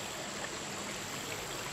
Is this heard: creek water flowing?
yes